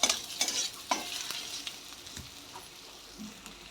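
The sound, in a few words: frying onion in a pan until reddish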